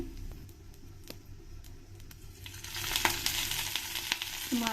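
Cumin, curry leaves and onion frying in a spoonful of oil for a ridge gourd sambar, a low crackle with scattered spoon clicks that swells into louder sizzling stirs in the second half.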